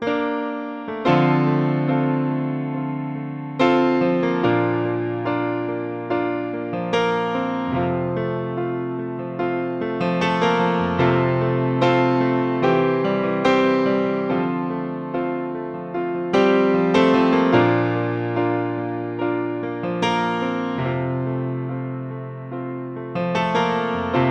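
Piano plays the flowing intro of a song (live version) with rolling chords and melody, steady and close, no voices.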